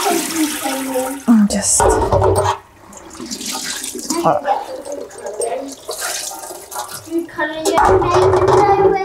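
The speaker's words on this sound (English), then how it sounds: "just a quick rinse" Naturally iron-dyed fabric being rinsed under running water, with irregular splashing and sloshing bursts that pause briefly, while a person talks quietly over it.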